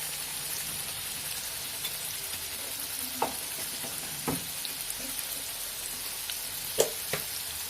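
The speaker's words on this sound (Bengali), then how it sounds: "এরপর একটু হলুদ গুঁড়ো দিচ্ছি" Turmeric powder goes into a frying pan of methi chaman, a vegetarian dish cooked without onion or garlic, over a constant loud sizzle. A few faint scrapes and taps of stirring come through the frying.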